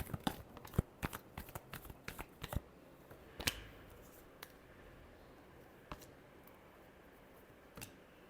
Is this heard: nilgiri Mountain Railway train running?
no